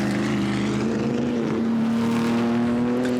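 An Alfa Romeo race car leading at the Goodwood Members' Meeting holds a loud, sustained engine drone with a steady humming tone that creeps slightly higher in pitch, heard close with no voices.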